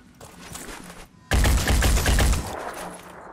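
Rapid burst of gunfire in the tactical game Phoenix Point at New Jericho, a loud dense volley lasting about a second after a quieter lead-in, then tapering into lingering ambient noise.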